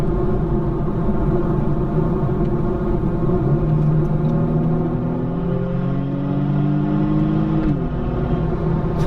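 A Kia Stinger GT2 AWD drives and accelerates, with a steady engine drone and road rumble from inside the cabin and engine tones rising through the gears, ending in a quick shift.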